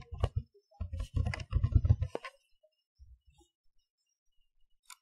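Keys clack on a computer keyboard while a thesis document is formatted, with dense bursts of rapid typing over the first two seconds, then a few sparse, quieter taps near the end.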